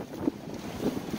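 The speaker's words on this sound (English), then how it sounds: "Pretty windy place here." Wind gusts across a windy bridge on a long-distance hiking trail, a brief rough rush buffeting the microphone in uneven surges with no talk.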